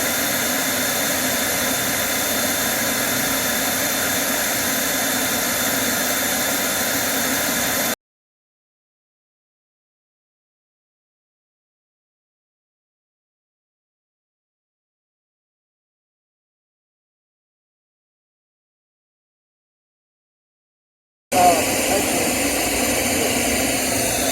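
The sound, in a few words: vacuum pumping bees from a tree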